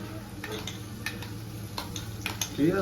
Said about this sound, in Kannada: ಕ್ಯಾಪ್ಸಿಕಮ್ ಸ್ವಲ್ಪ ಎಣ್ಣೆಯಲ್ಲಿ ಫ್ರೈ ಆದಮೇಲೆ ಸೊ ನಾವು ರುಬ್ಬಿಟ್ಕೊಂಡಿರೋ ಮಿಶ್ರಣನ ಇದಕ್ಕೆ ಹಾಕೋಣ